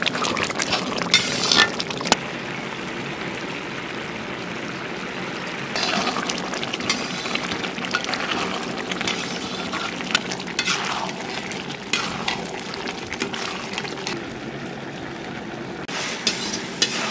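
A ladle stirs thick pumpkin halwa in a wok-style pan: continuous wet scraping and sticky bubbling with a faint sizzle, in steady, repeated strokes that are close and moderately loud, with no talking.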